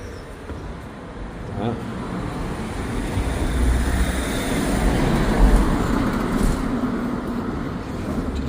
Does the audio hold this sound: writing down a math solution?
no